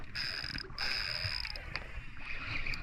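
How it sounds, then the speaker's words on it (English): A fishing reel's drag whirs in a high, steady buzz as a redfish pulls line, stopping briefly and resuming, over faint water and outdoor background noise. "Hear that smooth drag"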